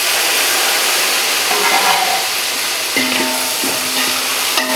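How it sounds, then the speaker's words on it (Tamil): Tomatoes and six green chilies sauté in a pan, a loud, continuous hissing sizzle close by, with a few clinks and scrapes of stirring near the end. "நல்லா வதக்கி விடுங்க."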